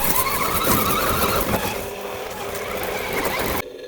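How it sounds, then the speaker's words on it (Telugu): On an RC track, a Bigfoot RC monster truck drives past with a continuous high electric motor whine, loud and near, easing slightly midway before cutting off abruptly at the end. "ఎంత ఈజీగా వెళ్ళిపోతుందో మన కారు."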